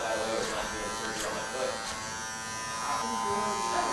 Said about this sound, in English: I love this clipper over comb technique